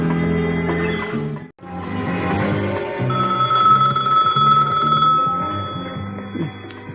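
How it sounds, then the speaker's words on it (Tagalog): A telephone rings in repeated bright trills, close and loud, over a background of music. "Agriring ti telepono."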